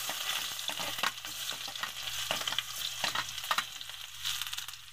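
Garlic frying in hot cooking oil crackles and sizzles close by, with sharp pops and stirring scrapes scattered through a constant hiss.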